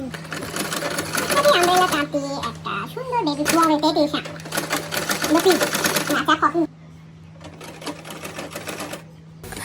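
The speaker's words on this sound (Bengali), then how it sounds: "তো এখন আমি আরমলের সাইডে কলারের সাইডে একটা করে সেলাই বসিয়ে দিব।" Sewing machine stitching seams on a cotton umbrella-style frock, running in steady rhythmic bursts up close with a constant hum, while someone talks over it.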